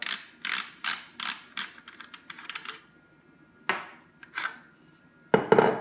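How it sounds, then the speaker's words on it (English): The barrel is removed from an unloaded Remington 870 shotgun, giving a run of close, crisp metallic clicks and slides, then a few sharper clacks and a final louder knock. "So you take the unloaded shotgun, remove the barrel"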